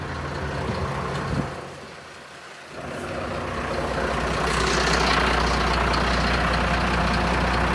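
The engine of a Mercedes truck fitted with a Hiab crane cranks and fires up, dips briefly, then settles into a loud, steady diesel idle with a rising rumbling hiss, heard up close without speech.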